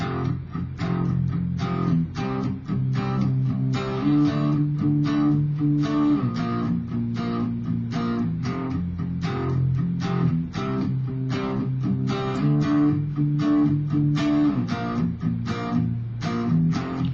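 Steady strummed guitar chords in a driving rhythm, with sharp percussive muted strokes mixed among ringing ones, played alone and close.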